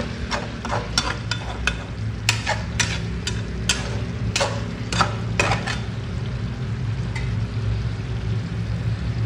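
Fish being stirred into spice masala in a hot pan: sharp spatula clinks and scrapes land irregularly every second or so over a constant low sizzle, close and fairly loud.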